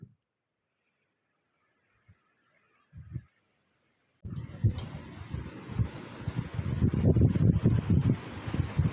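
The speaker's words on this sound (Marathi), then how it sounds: "एवढं खतरनाक वारा हे चेक कर हे बघा." Strong monsoon wind at Sagargad fort roars across the microphone in loud, gusting buffets, starting abruptly after a few seconds of near silence and a couple of brief knocks, then blowing continuously to the end.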